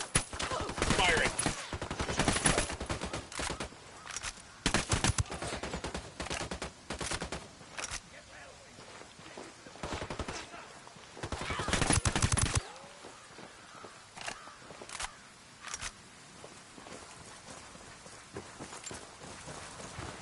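Gunfire from a cartel firefight in Ghost Recon Wildlands, with repeated bursts of automatic shots and scattered single cracks over about twenty seconds, some loud and close, others thinner. Clusters are denser early on and again near the twelve-second mark.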